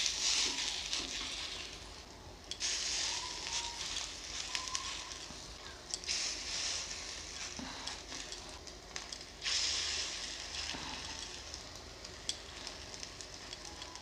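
Coriander and prawn fritters fry in hot oil, a soft continuous crackling sizzle that swells in bursts as pieces go in, fairly faint and close with no talking.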